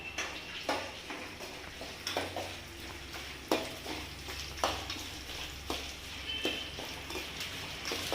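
Food sautéing in a pan, a low steady sizzle under repeated knocking and scraping stir strokes that come every half second or so, close by with a faint background hum.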